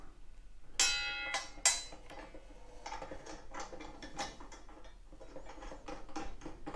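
A nut is threaded onto the blade arbor of a SKILSAW 10-inch table saw, Model 3400, giving a few sharp metallic clicks followed by quieter, irregular ticking and rattling up close.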